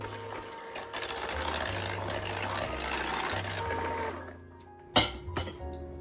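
An electric mixer beats canned pure pumpkin puree with other ingredients, a steady motorized hum with shifting pitch for about four seconds, then stopping, followed by a couple of sharp clinks.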